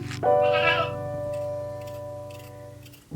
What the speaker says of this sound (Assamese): এই ছাগলীকেইটা বেবে আছে